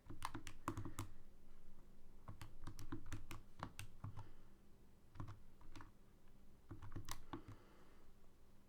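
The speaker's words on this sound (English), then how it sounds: "I'm going to type all that into my calculator." Numbers being keyed into a calculator for a statistics margin-of-error problem, a steady run of quick, close plastic key clicks in irregular bursts with short pauses, no talking.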